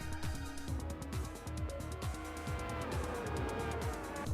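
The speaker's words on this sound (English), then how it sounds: "I cannot with those engine sounds" Car engines roar through a Gran Turismo 4 video game race, a dense stream of revving and gear-shifting whines that rise and drop repeatedly, steady and loud throughout.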